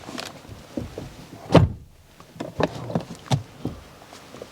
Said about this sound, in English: try and listen the sound when you close the door